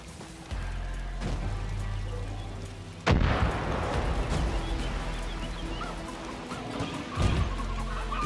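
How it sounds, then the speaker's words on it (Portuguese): Loud explosions and heavy gunfire-like blasts in the shooter game Far Cry New Dawn, with a sharp burst midway and another near the end over a continuous rumbling battle din. "Já está a haver ali explosões ao lado."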